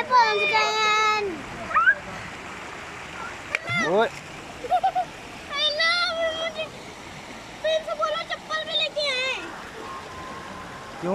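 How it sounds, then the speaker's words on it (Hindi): River water at Shahdara Point near Rawalpindi splashes and flows as people wade in, a near, lively wash under children's squeals and people talking. "वो नदी में पहुंच गए हैं।"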